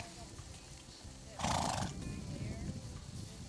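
A horse gives a loud, close whinny lasting about half a second in the middle, amid a rural outdoor setting with people talking throughout.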